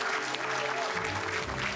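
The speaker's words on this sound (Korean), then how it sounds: "큰 박수로 환영해 주시기 바랍니다." A crowd greets the arriving South Korean president-elect with loud, dense applause, continuous clapping throughout, with a faint voice over it in the latter half.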